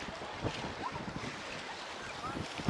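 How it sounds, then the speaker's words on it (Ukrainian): Strong wind roars steadily across the microphone outdoors at sea on the Black Sea, with rough low buffeting and a constant hiss that swells slightly near the end. "Зараз дуже сильний вітер."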